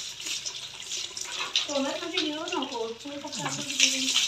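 Hot running water splashes steadily throughout a bath, with a voice talking and singing over it at close range.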